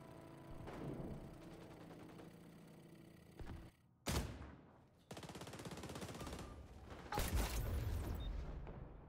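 Gunfire in the online shooter XDefiant: rapid automatic bursts and sharp single shots crack among game effects and a loud whooshing impact, close and punchy with brief gaps.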